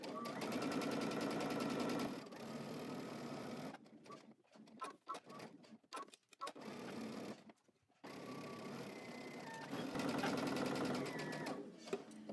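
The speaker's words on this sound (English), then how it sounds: "we're gonna go to the sewing machine and we're going to start stitching across the top" A sewing machine stitches across the top of a garment piece at a 5/8-inch seam allowance with backstitching, running in long steady whirring bursts with short stops and starts between them.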